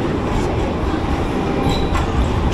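An Istanbul tram rides along with a loud continuous rumble of wheels on rails and a few faint high squeals.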